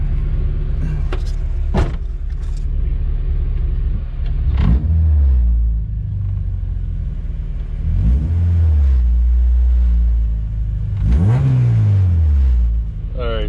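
A K-swapped Honda Civic with an upgraded radiator on a test drive, its engine revving up in several distinct sweeps with deep rumble between, loud and close from the cabin, with a voice at times.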